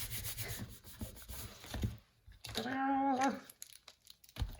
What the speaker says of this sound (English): let's give that a wee burnish. Give it a wee rub.